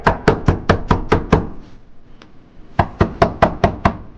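Knocks on a bunker door at a high-altitude Siachin army post, two bursts of about seven sharp, rapid, loud raps each, separated by a short quiet gap.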